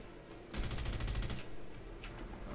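Dense burst of rapid automatic gunfire from the open-world shooter Red Faction Guerrilla, a loud continuous rattle lasting about a second, followed by sharper scattered shots.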